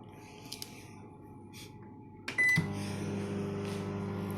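A microwave oven cooking jacket potatoes gives a few soft clicks and beeps, then a door or button clunk, before settling into a steady, close electrical hum.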